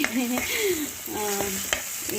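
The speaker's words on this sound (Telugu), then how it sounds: "జస్ట్ ఇవి చక్కగా వేగిపోయాక, ఇలా వేగిపోయాక, ఎండుమిరపకాయలు వేగిపోయాయి" Dry red chillies and asafoetida fry in hot oil for a tempering, giving a steady, soft sizzle with faint clinks of stirring in a home kitchen.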